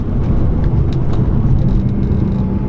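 A 2014 Mercedes C63 AMG drones while driving, a loud, close, continuous low engine rumble with steady road and wind roar, no voices.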